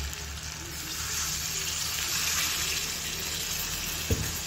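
Water pours into a pan of jackfruit frying with spices, giving a steady hissing, bubbling wash throughout with a small clunk near the end.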